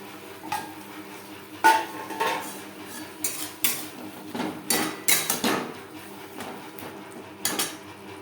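Potatoes being stirred into a spice and tomato paste in a pan, with a utensil clanking and scraping against the metal in irregular, sharp bursts over a quiet background.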